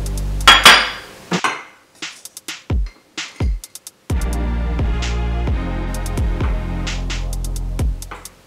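Rectangular glass food dishes clink and knock as they are handled in a kitchen while tempeh is prepared, a series of sharp bright taps and rattles, some isolated and some in quick clusters, close and fairly loud, with no talking.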